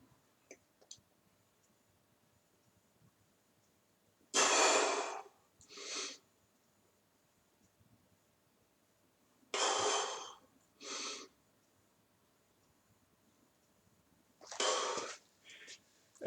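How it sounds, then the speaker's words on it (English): Deep breathing during a home burpee workout, three pairs of loud close breaths, each a strong inhale followed by a shorter one, spaced several seconds apart with quiet between. "Deep breathing."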